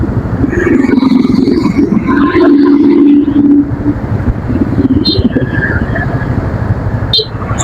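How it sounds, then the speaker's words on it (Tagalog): A dense crowd of motorcycles passing on a road, their engines forming a continuous loud rumble with occasional horn-like tones and brief sharp clicks, recorded up close amid traffic. "Siksikan sila halos lahat ng mga motor nandiyan."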